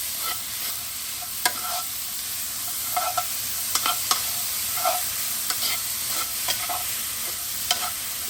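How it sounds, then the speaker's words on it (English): Grated beetroot, couscous and fennel stirred together in a pan over low heat, a quiet steady sizzle broken by light spoon taps and scrapes at irregular intervals. "let the beetroot and the couscous and fennel all mix together"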